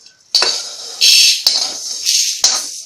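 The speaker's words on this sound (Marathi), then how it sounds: "आता मी काढून घेतली कुकरमध्ये।" Roasted urad dal is scooped into a metal pressure cooker: several loud, close metallic scrapes and clinks of a spoon against the pan in quick uneven bursts, with no speech.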